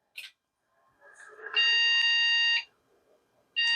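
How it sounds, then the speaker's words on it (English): Harsh electronic beeps sound close by from a Cooler Master server computer at power-on, likely a memory fault: a short chirp, then a long steady tone lasting about a second, and another beginning at the end. "Get beeps right away."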